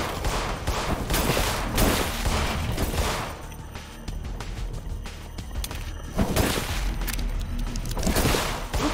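Sustained, dense gunfire fills the In Sound Mind video game, with rapid overlapping shots and booming bursts rolling on almost without pause, loud and close throughout.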